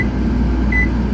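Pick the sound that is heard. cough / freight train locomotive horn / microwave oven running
microwave oven running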